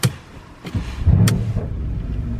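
A Mercedes C63 AMG engine cranks briefly and catches with a loud burst, then drops into a rough, throbbing idle close by.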